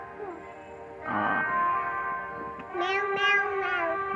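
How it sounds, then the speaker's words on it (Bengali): A cat meows close by, a few drawn-out calls rising and falling, the last ones higher and more strained, with quiet room noise between. "ডাক দে ম্যাও ম্যাও করে ডাক দে"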